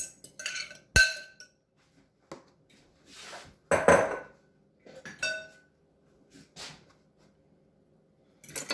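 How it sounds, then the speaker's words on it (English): Utensil scraping and clinking against a large bowl while spaghetti pie cheeses are stirred together, coming in scattered short bursts with quiet gaps between, close and moderately loud, with no talking. "we're gonna mix this in this bigger bowl because we want to mix all this up"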